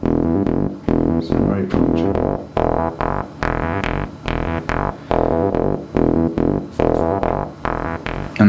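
Low-frequency tone boosted and swept on a mixing desk EQ, heard as a rhythmic pulsing track whose low, resonant emphasis shifts over about eight seconds of steady, loud repeated beats.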